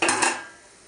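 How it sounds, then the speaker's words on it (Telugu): A lid clatters onto a metal cooking pot of chicken curry, one close clinking clank that rings briefly and fades within a second. "మూత పెట్టేస్తున్నాను."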